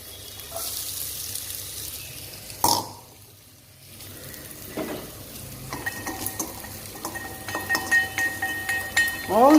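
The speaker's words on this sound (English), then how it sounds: "next I am going to add the carrots." Carrots go into a pan of onions for sauteed tofu, broccoli and mushroom: a sharp clatter, quiet sizzling, then scraping and stirring sounds that build toward the end.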